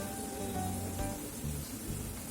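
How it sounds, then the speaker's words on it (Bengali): Steady dense crackle of lentil fritters frying in hot oil, continuous and close with no talking. "ভালো করে ভাজা হোক তার ফিরে আসছি"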